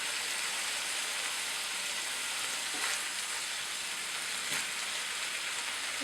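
Soy sauce sizzles in a frying pan while soboro ground meat cooks, a steady dense hiss across the whole stretch with a couple of faint stirring scrapes, no one talking.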